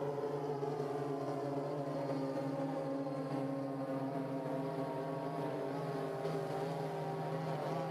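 An automated UAV drone takes off during a workshop demonstration, its motors giving a steady droning hum with faint harmonic tones that stays constant and fairly quiet throughout, with no talk.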